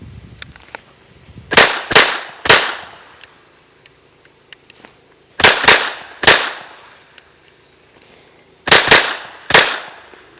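Pistol firing Federal 230 grain full metal jacket ammo in failure drills at 7 yards: three groups of three sharp, loud shots, each group a quick pair and a follow-up, with pauses between groups.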